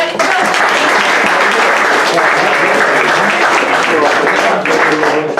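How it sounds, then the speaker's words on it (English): Audience applause at an athletics club awards evening, a loud, continuous crowd clapping that fills the whole stretch at even strength, with some voices mixed in beneath it. "a round of applause for the Belfields."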